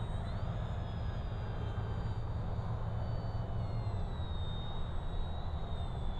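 E-Flite P-51D 1.2m radio-controlled model airplane in flight, a steady whining motor tone that slowly shifts in pitch over a constant outdoor wind-like rush, heard at a moderate distance with no talking.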